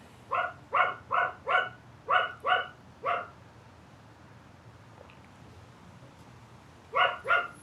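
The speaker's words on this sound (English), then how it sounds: "The dog's going crazy." A dog barks in quick repeated bursts, about seven loud, close barks in a row, then a pause and a few more barks at the end, with no talk.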